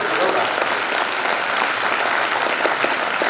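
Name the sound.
audience applause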